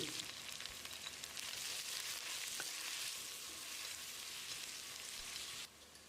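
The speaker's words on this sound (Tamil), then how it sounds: "2 டீஸ்பூன் உப்பு சேர்த்து வெங்காயத்தை செவந்து வர்ற அளவுக்கு வதக்கிடலாம்." Two large sliced onions sauté in hot oil with salt for mutton biryani, with a quiet, continuous sizzle and faint stirring sounds now and then.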